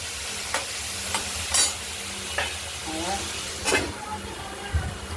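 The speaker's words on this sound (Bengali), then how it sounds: "ঢাকনাটি খুলে ঝিঙেগুলো আমরা একটু নাড়াচাড়া করে দিলাম" Ridge gourd pieces frying in a hot pan hiss steadily while a utensil stirs them, making repeated scraping strokes and clacks every second or so, close and moderately loud.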